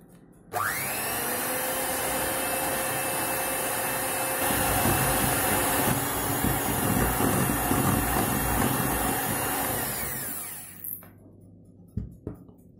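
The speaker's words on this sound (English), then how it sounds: "I'm using an electrical beater to beat the butter and sugar." An electric hand beater whips butter and sugar for red velvet cupcakes, whirring steadily for about ten seconds before winding down, followed by a couple of light knocks.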